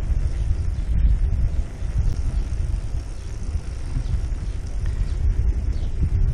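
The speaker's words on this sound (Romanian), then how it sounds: "Bate puțin vântul, sper să se audă cât de cât." Low, blustery wind buffets the microphone while riding a DYU D3 electric bike, in a continuous rumble, with no talking over it.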